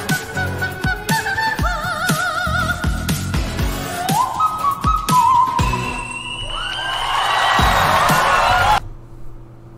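A male singer climbs through runs into a piercing, very high whistle-register note that holds and then cuts off abruptly.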